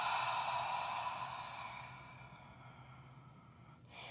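A long, soft exhalation during a yoga exercise, a gentle airy breath that fades out, with a brief breathy sound at the end.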